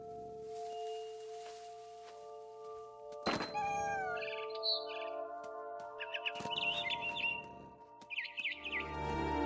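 Bird chirps in the video game What Remains of Edith Finch, a series of quick bright tweets and trills after a sharp thump, set over a steady musical drone.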